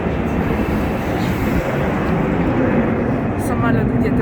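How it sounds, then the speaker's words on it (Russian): An airplane flies somewhere overhead on an outdoor evening, a steady, broad distant roar that fills the whole stretch at an even level, with faint background activity. "самолет где-то летит"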